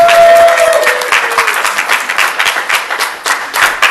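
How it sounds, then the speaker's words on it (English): Loud, sustained audience applause and clapping for a GI Joe voice actor panel at a pop culture convention, a dense crowd roar that tapers slightly toward the end. "Please everybody give them a wonderful round of applause."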